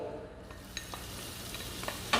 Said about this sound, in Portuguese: Então eu coloquei o azeite na panela aquecida. Eu vou colocar o bacon.